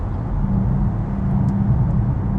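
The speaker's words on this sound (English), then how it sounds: "this car is noisy. You have to blame the 22-inch tires, of course." A loud, steady low roar of 22-inch tires on concrete fills the cabin of a BYD Tang electric SUV, constant and droning with no talking.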